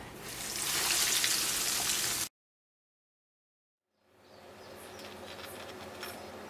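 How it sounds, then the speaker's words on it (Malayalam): Bread potato egg rolls fry in hot oil with a steady, close hiss of sizzling, which cuts to silence, then returns softer with faint crackles. "ഇതേപോലെ ബാക്കിയുള്ളതും വറുത്തെടുക്കാം."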